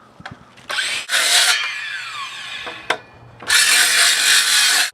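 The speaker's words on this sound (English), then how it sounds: "I'm going to cut 5/8 off of my finished side." A power saw cuts about 5/8 inch off the bottom of a finished porch column, in loud whining bursts separated by short pauses, close up, with a sharp clack partway through.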